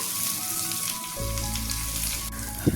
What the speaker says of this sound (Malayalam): ഉരുളക്കിഴങ്ങെല്ലാം നല്ലതുപോലെ ഫ്രൈ ആയിട്ടുണ്ട്